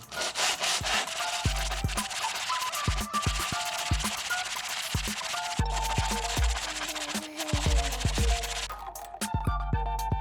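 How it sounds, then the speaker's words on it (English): Coarse 60 grit sandpaper rubbed back and forth over a 98cc Rascal minibike engine part held flat, making steady, loud, close scraping strokes in a continuous rhythm with short pauses. "So let's go sand this off."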